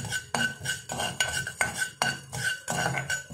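Mustard seeds and urad dal being roasted in a pan, with a metal spoon clinking and scraping against it in a quick repeating rhythm, close and clear.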